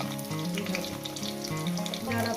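Steady sizzling of large cauliflower pieces frying in a hot pan, with a continuous crackle and faint music-like tones underneath.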